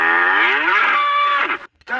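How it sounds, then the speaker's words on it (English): A cow lets out one loud, drawn-out moo that slides in pitch, up close, with a short breathy tail at the end and no talking. "That was a cow."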